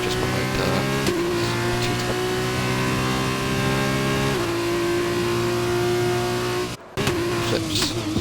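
A simulated race car engine in rFactor 2 at the Austrian GP on a flying lap, holding a loud, steady high-revving drone with upshifts near one and four seconds and a brief cut-out near the end.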